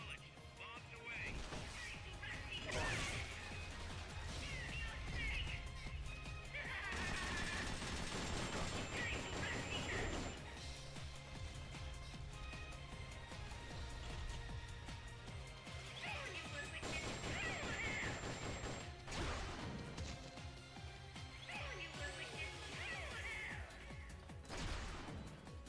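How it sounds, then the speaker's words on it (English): Rocket launcher fire and blasts from Metal Gear Solid Peace Walker burst out repeatedly over game music, with crashing explosive hits clustered through the stretch and talk overlapping parts of it. "Rocket launcher ready to fire. Target acknowledged. Bombs away."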